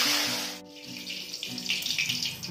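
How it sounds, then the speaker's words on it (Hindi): Plain water sprinkled into mustard oil heated on a high flame for dhaba-style chicken gives a loud, steady hissing sizzle that dips briefly and then surges again, over a low hum, with no talking. "एटी मु अल्प टिके नॉर्मल पानी को तेल रे छिंचली"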